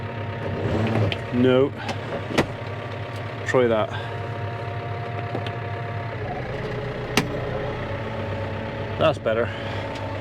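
A tractor engine hums steadily at mowing revs with the 540 PTO engaged, with a few brief mechanical whines and clanks, while people talk briefly over it.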